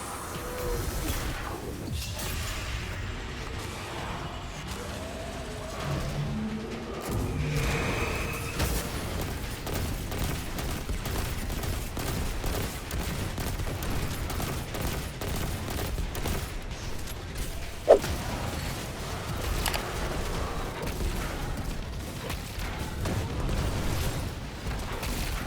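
Rapid Dragon's Breath and fusion rifle fire from a Destiny rotation, with dense, continuous bursts of gunfire and booming impacts layered into a steady wall of combat noise and no talking.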